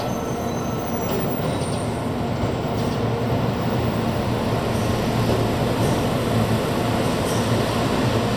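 A Shinkansen bullet train pulls into a station platform, producing a loud, steady rolling rumble with squealing wheels that carries unbroken through the whole stretch, close by and with no voices over it.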